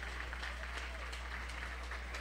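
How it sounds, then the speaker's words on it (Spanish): Boxing tribute crowd in Hermosillo clapping, a short, fairly faint patter of applause over a steady low hum. "fuerte el aplauso"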